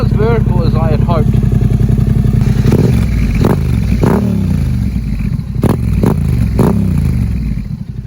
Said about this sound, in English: But this is how it sounds.